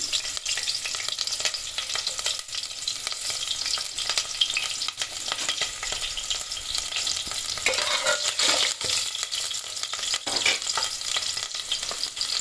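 Soaked rice fries with fried onion, chillies, carrot and mace in a pan for bhagara rice, giving a continuous sizzle broken by occasional scraping stirs.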